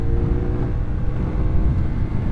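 A CFMOTO motorcycle engine holds a steady, high rev near 10,000 RPM, giving a continuous smooth drone with a low rumble and faint tonal whine, close and fairly loud with no talking.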